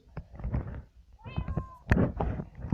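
A single Minecraft cat meows with a rising, drawn-out tone, surrounded by soft clicks, thumps and scattered background noise.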